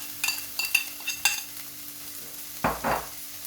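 Potato samosa filling with green chillies cooking in a pan, light sizzling with a few clinking stirs of a spoon against the pan, then a louder scraping burst near the end, close and fairly quiet, no speech.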